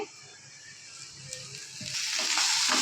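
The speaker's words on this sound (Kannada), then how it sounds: "ಇಷ್ಟನ್ನು ಚೆನ್ನಾಗಿ ಎಣ್ಣೆಯಲ್ಲಿ ಸಾಫ್ಟ್ ಆಗೋವರೆಗೂ ಫ್ರೈ ಮಾಡ್ಕೊಳ್ಳೋಣ" Small onions fry in oil for a fish curry. A soft sizzle grows louder and brighter toward the end, with a few light stirring touches.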